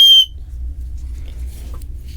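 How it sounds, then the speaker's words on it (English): A small emergency whistle built into a ZeroLemon paracord battery charger gives one short, shrill, piercing blast up close, then cuts off into quiet room hum. "This is a whistle."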